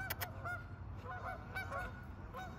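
Geese that ran out of a little creek honk repeatedly at moderate distance, a few loud overlapping calls over steady low rumbling background noise.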